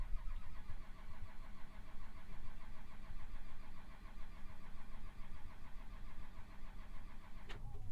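A Case 580 backhoe's engine cranks steadily but never catches, a continuous rhythmic churning held at one level for several seconds, near and alone, with a short sharp click at the very end.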